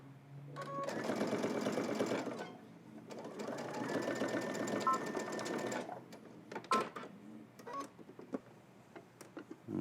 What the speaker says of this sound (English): now I'm doing a second row of top stitching a 1/4 inch away from